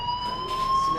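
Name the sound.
fire alarm ringing in video game Life is Strange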